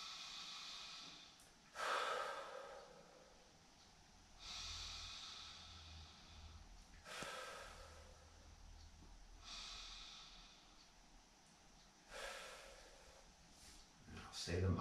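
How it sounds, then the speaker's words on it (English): Three deep breaths are drawn in through the nose and pushed out through the mouth before a chest workout, each a loud, close breathy rush spaced a few seconds apart, with no talking. "first I'll take 3 deep breaths in through the nose,"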